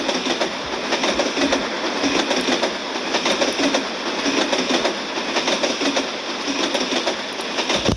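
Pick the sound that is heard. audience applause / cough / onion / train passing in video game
train passing in video game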